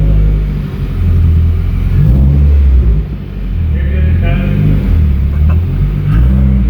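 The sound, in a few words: Subaru WRX car driving off on a test drive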